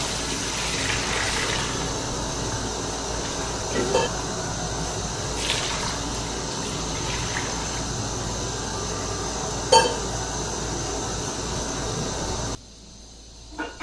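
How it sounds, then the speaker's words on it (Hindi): Water boiling in a cooking pot for beef yakhni pulao, a steady bubbling hiss with occasional louder pops that holds for about twelve seconds, then cuts off abruptly. "पानी हमारा बॉईल हो रहा है"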